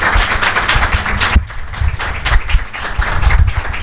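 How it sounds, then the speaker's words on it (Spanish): Lively audience applause for speaker Gordon Stobart at a talk on classroom assessment, loud dense clapping that briefly dips and then swells again, filling the room. "un aplauso para Gordon"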